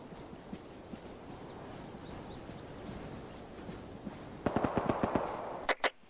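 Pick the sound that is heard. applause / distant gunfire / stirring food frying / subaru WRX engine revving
distant gunfire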